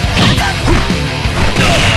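Rapid-fire punch hits from a MUGEN fighting game bout between Kim Kaphwan and Kenshiro: a dense, loud flurry of crashing, smacking impacts that runs continuously for a couple of seconds.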